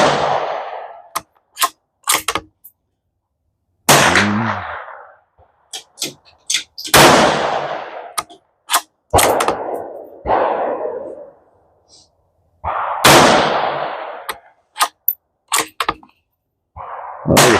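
Sharp rifle shots from a Tikka T1x .17 HMR with an emerald green stock, each a loud, crisp crack with a short ringing tail, fired singly at uneven intervals with quiet gaps between and some clustered in quick pairs.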